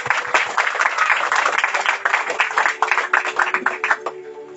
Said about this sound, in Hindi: खुशी से हम परमेश्वर के लिए अच्छी ताली बजाते हैं।